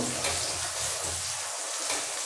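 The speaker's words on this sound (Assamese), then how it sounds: "এইটো ভালকৈ লৰাই দিব লাগিব" Potatoes frying in hot oil as they are stirred, heard as a steady, close sizzle for the whole stretch with faint scraping of the stirring.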